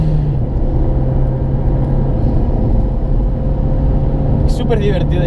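A Renault Megane R26 F1 Team hot hatch runs at full throttle, its engine a loud, steady low roar from inside the car, with a person talking over it throughout.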